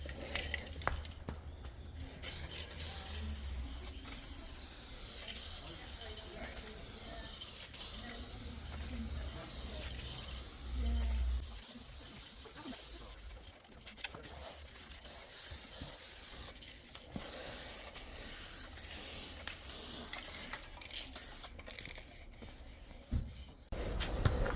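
A spray gun lays a full, wet second coat of paint on a car bumper, a steady close hiss that runs almost unbroken and dips briefly partway through.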